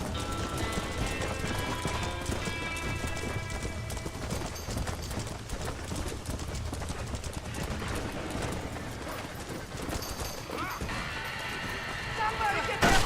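Horses clatter and run in a burning barn in the video game Red Dead Redemption, hooves and frantic movement churning under dense game music, crackling chaos and a steady stream of talk throughout.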